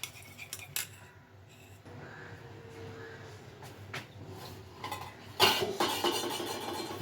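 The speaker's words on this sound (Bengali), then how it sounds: "আমি চামচ দিয়ে ভালো মতো মিলিয়ে নেব" A spoon clinks against a bowl while omelette eggs are mixed with salt and ground black pepper, giving a few sharp metallic taps and scraping stirs against quiet background noise, with a louder burst of clattering near the end.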